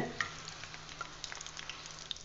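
Batter snacks frying in hot oil in a pan, a quiet, thin sizzle with scattered small pops and crackles, steady and close, the bubbling already calming down.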